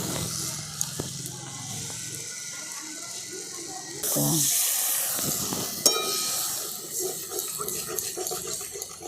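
Water is poured into well-fried masala in a pan, setting off a sudden louder hiss and bubbling sizzle after a quieter stretch of cooking sounds, up close.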